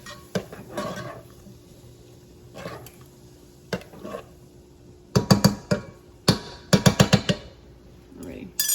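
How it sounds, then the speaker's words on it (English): Cube steak with peppers and onions being stirred in a pot, with scattered metallic clinks and scrapes of a utensil against the pot, soft at first and then a quick cluster of sharper knocks near the end. "So you're going to stir it"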